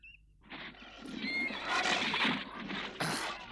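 A horse in an animated cartoon gives a loud, drawn-out whinny with a rough, snorting edge, close up and filling about three seconds, with no talk.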